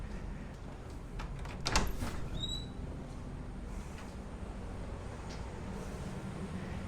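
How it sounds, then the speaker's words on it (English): A house door opens during a home energy assessment with a fan running, giving one sharp latch click and a brief creak over a steady quiet hum. "So I'm going to open up this door here."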